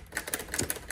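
A 1954 Smith-Corona Silent Super typewriter clatters in quick, close mechanical taps and clicks, several in under a second, as its carriage moves.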